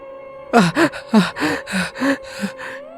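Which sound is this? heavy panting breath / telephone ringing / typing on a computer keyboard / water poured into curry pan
heavy panting breath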